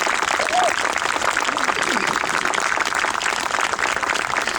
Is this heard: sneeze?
no